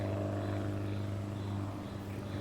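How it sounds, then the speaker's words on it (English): A red de Havilland Beaver airplane flying overhead in the Alaskan mountains makes a steady, moderately loud propeller engine drone with a low humming tone that holds throughout, with no talking. "But then I heard the sound of an aircraft."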